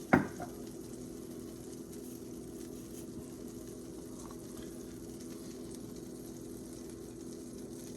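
Butter and olive oil heating in a frying pan, a soft steady sizzle and low bubbling after a brief clink at the start, quiet and continuous throughout.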